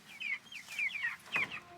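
Chickens in a grassy pen around a chicken tractor, a series of close, high clucks and short squawks in uneven bursts with brief pauses between, no talking.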